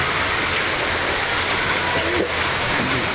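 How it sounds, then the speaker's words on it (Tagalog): Heavy rain pours down alongside rushing floodwater, a dense, steady roar of water that fills the whole clip without a break, loud and close. "Sobrang baha na at ang lakas ng ulan."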